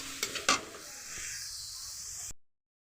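A few quick spoon taps on a pan give way to a steady soft sizzling hiss as sugar is stirred into grated carrot halwa cooking on the stove, fairly close and without talk.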